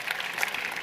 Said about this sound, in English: I think that deserves a round of applause for the organizers of Start Summit